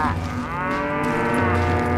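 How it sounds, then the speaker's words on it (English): Cattle lowing in the Western video game Call of Juarez: Gunslinger, a sustained loud moo with rich harmonics filling the whole moment, steady and close with no talk over it. "Look at these little cows out here."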